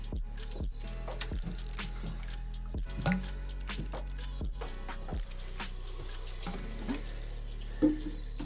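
Tap water running into a water bottle during a refill stop, a steady close stream with clinking and gurgling as the bottle fills.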